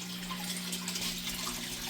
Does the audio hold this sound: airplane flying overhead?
no